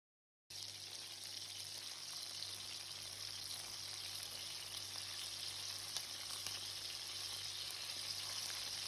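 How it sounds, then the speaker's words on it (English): Steady crackling sizzle of chicken pieces frying in hot oil, continuous and even throughout with a low hum underneath. "I'm going to be frying my chicken pieces for at least 4 minutes on each side"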